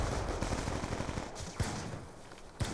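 M27 assault rifle fire in Black Ops 2, heard as a dense, steady crackle of shots with a couple of louder bursts standing out near the end, moderately loud and without voices.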